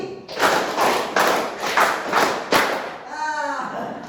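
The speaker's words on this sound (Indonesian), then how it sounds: "Tepuk tiga dua kali." A group claps hands together in a counting concentration game, giving a run of about six sharp, rhythmic claps, followed by a brief voice.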